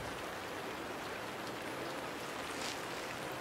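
Steady rain falling in an even, continuous hiss, close and fairly loud, with no voices and no pauses across the whole stretch.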